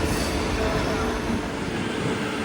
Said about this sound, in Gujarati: સામેની સાઈડ તમે જે ટ્રેન જોઈ રહ્યા છો તે કહેવાય છે કે તેજસ એક્સપ્રેસ છે